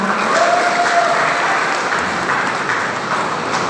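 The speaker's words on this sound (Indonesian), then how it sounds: "Kok nggak tepuk tangan?" Dense, even applause from an audience at a business presentation, loud and continuous throughout with no break.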